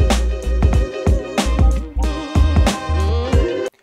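Sample-based drum beat programmed on a Maschine MK3, layered punchy kicks and snappy hits over tonal sampled chords, looping loud and upfront before cutting off abruptly.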